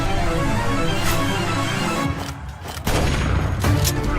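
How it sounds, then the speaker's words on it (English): Heavy video game combat with a grenade blast and rapid gunfire, loud, dense booms and cracking shots layered together, briefly dipping before another burst of firing. "Throw a grenade."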